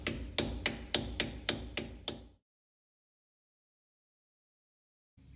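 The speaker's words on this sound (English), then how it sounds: "Get a punch and tap the flat side here to rotate it, and eventually it will spin loose." Hammer tapping a punch against a Toyota 4x4 solid front axle spindle nut, eight sharp metallic strikes in an even rhythm, close and crisp, followed by silence.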